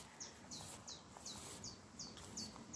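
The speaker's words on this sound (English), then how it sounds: "When I listen today to the birds," Small birds chirp outdoors in a faint, regular series of short high notes repeating roughly every third of a second, distant and soft against a quiet natural background.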